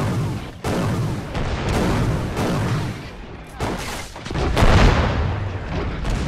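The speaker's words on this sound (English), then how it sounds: "This will just explode." Loud explosions and heavy gunfire from the Men of War Assault Squad 2 war game, a dense continuous barrage of blasts with a bigger boom swelling near the end, no talk over it.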